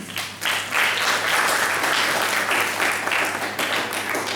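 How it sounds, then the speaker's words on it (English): Delegates at a Model United Nations conference break into a big round of applause, a dense, loud wash of clapping from a large crowd in a hall that swells and holds for several seconds. "let's give ourselves a big round of applause as delegates"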